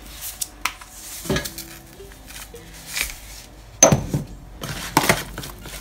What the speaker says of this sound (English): just stir it nicely so that they're evenly coated